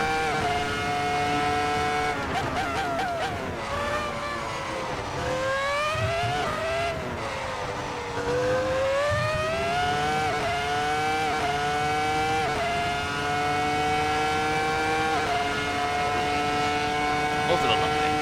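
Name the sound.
Ferrari F2004 engine revving, driven in racing game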